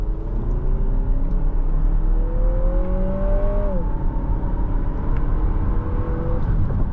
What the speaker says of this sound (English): Let's test the acceleration here.